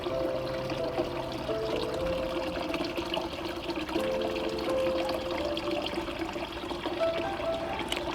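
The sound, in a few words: water trickling in a small backyard garden fountain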